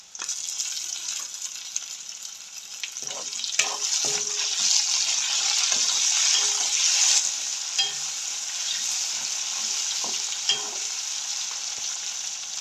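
Onions and tomatoes fry in a pan for a Jaffna-style crab curry, a steady close sizzle with occasional stirring scrapes and light clinks running throughout.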